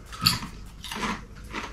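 Crunchy Guinness-flavoured crisps bitten close up, three separate crunchy bites spaced about half a second apart, each a short bright crackle over quiet room background.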